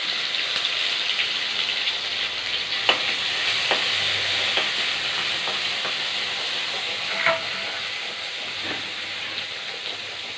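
Ginger garlic paste frying in a pan for mutton kuzhambu, a steady close hiss and sizzle with occasional stirring clicks and scrapes, no talk.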